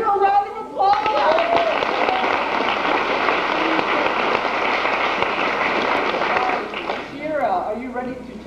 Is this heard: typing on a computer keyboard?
no